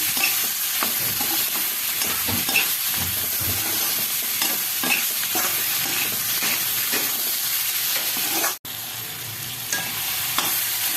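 Ingredients frying and being stirred in a pan before grinding to a paste for a chicken dish, a steady close sizzle with repeated scraping stir strokes, briefly cut off near the end before resuming.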